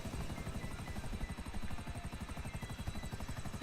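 Helicopter in the video game GTA 5 Online, its rotor beating in a steady rapid chop, loud and close, alone for a few seconds.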